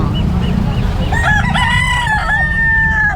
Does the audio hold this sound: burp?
no